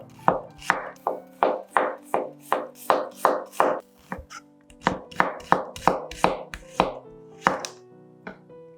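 A knife chops two medium onions into half rings on a board, a steady, fast rhythm of crisp close cuts repeating almost twice a second with a brief pause midway.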